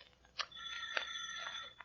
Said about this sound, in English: Blackie, how many times are you going to ring that bell before you're convinced Mrs. Trilling isn't at home?